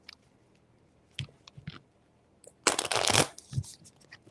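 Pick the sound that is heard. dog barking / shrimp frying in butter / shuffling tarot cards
shuffling tarot cards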